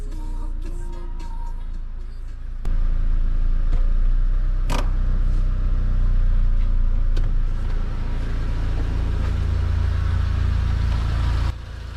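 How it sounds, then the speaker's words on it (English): A 2009 Mitsubishi Lancer engine with a loss-of-power problem cranks and catches, then runs at a steady low rumble, idling loudly up close until it shuts off near the end. "Let's get this car started up and see how it sounds, right?"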